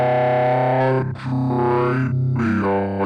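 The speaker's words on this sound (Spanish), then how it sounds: "Vamos a poner un poquito de distorsión para levantar esto." A growl synth patch in the Vital synthesizer with distortion added, a loud, buzzing, harmonically rich tone that shifts and wobbles in timbre over a few seconds, heard alone.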